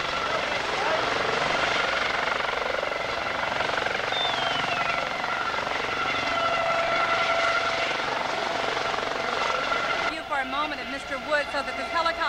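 A helicopter comes in to land at an airfield during an airfair event, a loud continuous rotor roar and whine that holds throughout, with a shift in texture near the end as it settles.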